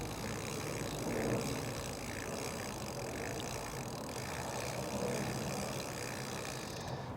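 A RadRover 6 Plus e-bike runs with a freshly lubed chain, giving a steady close drone that holds even throughout with no talk.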